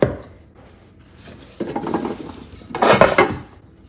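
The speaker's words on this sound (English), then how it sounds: "put them on the sheet pan and stick them in the oven" Brussels sprouts are spread onto a metal sheet pan, making close clattering and rattling with a louder burst of clinks near the end.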